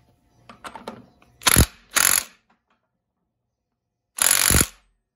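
Impact wrench on a nut of a 2009 Yamaha YZ250F motorcycle engine, three sharp rattling bursts close up, two in quick succession and a third after a pause, with faint handling clicks before.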